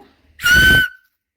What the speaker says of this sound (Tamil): இங்கே பாருங்க விசில் இருக்கு, ஊதி பார்ப்போம்.